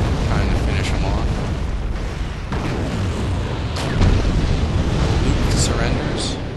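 Grenades go off in a Wargame: European Escalation battle, a dense, loud roar of blasts and rumbling booms that runs almost without a break, with a few sharper bursts breaking through.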